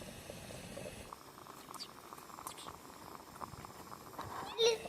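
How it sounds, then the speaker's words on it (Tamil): A pot of water bubbles at a steady simmer outdoors by a river, ready for rice for quail biryani, soft churning and popping close by, with a brief louder clink near the end. "தண்ணி நல்லா கொதித்துட்டு"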